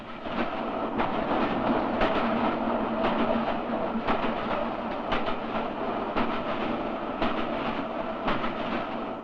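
A train rolls along the rails at steady speed, with continuous rumble and regular clickety-clack beats from the wheels throughout.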